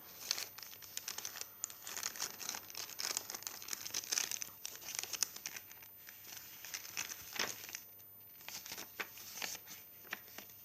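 Paper for a Christmas-themed traveler's notebook junk journal insert crinkles and rustles steadily at close range, with a few sharper tearing sounds and soft taps mixed in, and no voices.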